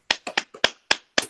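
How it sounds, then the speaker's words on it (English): A person gives a short burst of sharp hand claps at a talk, about eight uneven claps in just over a second, crisp and close with silence between them. "I'm going to give you a genuine clap, and maybe others could join in."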